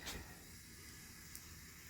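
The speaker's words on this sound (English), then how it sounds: "if it starts sizzling and cooking, then we know our oil is hot enough" A soft, steady hiss of hot frying oil sizzling as crab balls cook, continuous and fairly quiet, with a faint brief crackle near the start.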